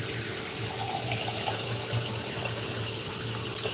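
Water runs steadily from a tap, a constant splashing hiss with a faint hum underneath.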